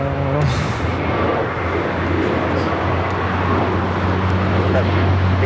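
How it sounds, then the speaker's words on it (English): A JetBlue Airbus A321neo, flight 1388, climbs out of LAX bound for Boston with a steady, broad jet roar that holds loud and constant throughout, while voices chat faintly over it. "This is a Mint Summer Nights Dream taking off to Boston, A321neo with JetBlue, 1388."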